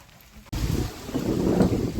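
Strong wind and heavy rain in a monsoon storm, starting abruptly after a quiet half second and then a loud, continuous rushing roar with gusty buffeting against the microphone.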